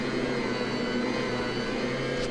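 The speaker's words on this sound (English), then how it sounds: "It has a transmission, and you can hear it gear up and gear down." A stand mixer kneading a heavy load of dough for za'atar flatbread, its motor droning steadily and loudly through a geared transmission, close by and with no talking over it.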